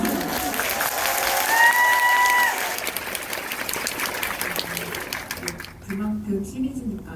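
An audience in a Megabox COEX cinema applauds at a guest-visit screening Q&A for Crime City 3, with dense, loud clapping for the first few seconds that fades as a voice begins talking.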